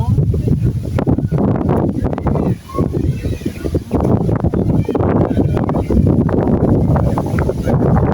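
Strong wind high on the Henderson Waves bridge buffets the microphone with a constant low roar, while people talk nearby throughout.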